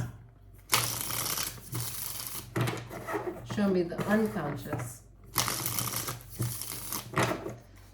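Tarot cards riffle and shuffle in repeated bursts close to the microphone, while a soft voice speaks briefly in the middle.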